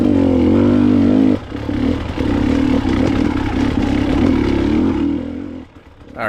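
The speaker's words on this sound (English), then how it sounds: "Get the bike revving up when you can, get it on the pipe." A dirt bike at a hare scramble race, NBDRA round 2 in Penobsquis, revs loudly up close. The engine drops briefly after a second, then climbs back into a sustained buzzing drone that fades near the end.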